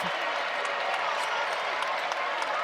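A basketball arena crowd at North Carolina vs USC Upstate roars and applauds after a basket, a dense, steady wash of cheering and clapping heard from a distance.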